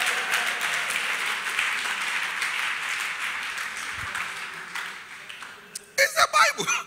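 A church congregation claps and applauds steadily for several seconds during a sermon, then fades, followed by a few louder close sounds at the end.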